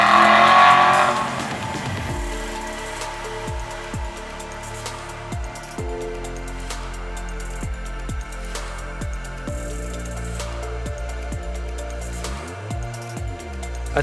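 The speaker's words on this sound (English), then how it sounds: "The sound you get out of the exhaust is nothing short of unbelievable." A 2008 Aston Martin Vantage convertible's engine revs through its exhaust, opening with a loud burst and then settling into a throaty rumble with repeated rises and drops in pitch, heard up close with no talk.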